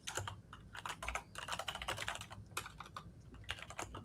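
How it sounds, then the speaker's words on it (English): Someone types on a computer keyboard at a quick, uneven pace: clusters of light, crisp key clicks with short pauses, close but fairly quiet, with no talking. "I can hear you typing"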